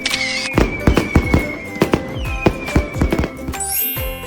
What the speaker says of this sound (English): The fireworks are so pretty!